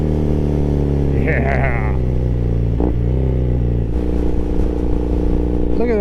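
A Triumph Thruxton motorcycle with British custom mufflers rumbles steadily and loud throughout, engine note dipping and rising slightly while riding, wind noise mixed in and a brief spoken word over it.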